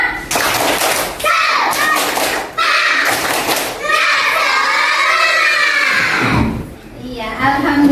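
A class of children performs a rhythmic clapping cheer, bursts of claps and thumps mixed with loud children's shouting and chanting voices, close and energetic.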